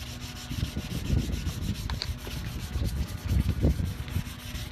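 Steady scratchy rubbing of sanding the clear coat on an Acura RSX headlight, close up, in continuous back-and-forth strokes with a gritty texture and slight surges, no voices.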